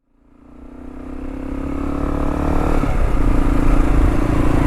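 A motorcycle engine on a ride, rising from quiet to a loud steady roar as the bike accelerates, with the engine note shifting partway through. No one speaks.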